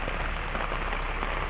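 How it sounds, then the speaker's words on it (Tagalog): Heavy rain falls hard and steady on surfaces on a rainy day in Hong Kong, a dense continuous hiss with scattered drop patters and no talk. "Ay, ang lakas ng ulan."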